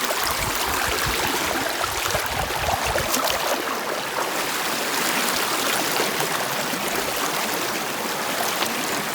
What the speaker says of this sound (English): Here it is, the headwaters of Johnson Falls.